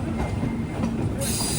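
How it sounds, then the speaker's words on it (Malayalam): A passenger express train pulls into Tirunelveli Junction, a loud, steady rumble of railcars with clattering wheels and a faint squeal rising near the end, heard up close on board. "ട്രെയിൻ ഇതാ തിരുനെൽവേലി ജംഗ്ഷനിലേക്ക് എത്തുകയാണ്"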